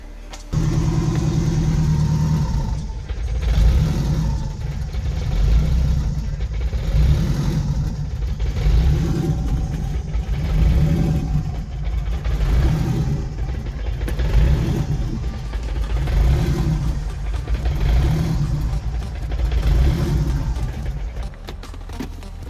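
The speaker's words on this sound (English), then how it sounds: "the car was starting all right when I turned the key" A car engine on a cold-start fuel setup catches after a key turn and runs unevenly, its low rumble swelling and easing in repeated revving pulses, loud and close throughout with no talk.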